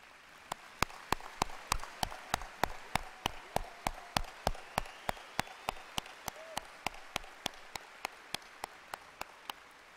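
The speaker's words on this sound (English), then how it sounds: "please stand as we applaud your efforts and sacrifices" At a high school graduation ceremony, a single sharp clap repeats at a steady, even beat roughly twice a second over a quiet hall, with faint room murmur behind it.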